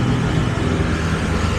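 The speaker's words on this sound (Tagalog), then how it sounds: "Bibilis ng mga motor." Motorcycles speed past on a road, heard from a moving bicycle as a loud, steady engine and traffic roar that fills the whole moment with no gaps.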